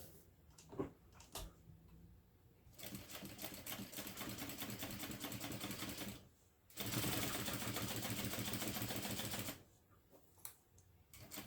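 Home sewing machine stitching across fabric for a Tribbiani Traveler bag pattern, two sustained runs of rapid even needle chatter broken by a short pause, with light handling clicks before and after.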